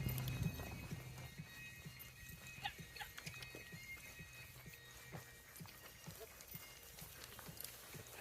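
Horse hooves clip-clop at a steady pace during an equestrian riding show, moderately near, with faint crowd noise and brief sounds of other riders in the background.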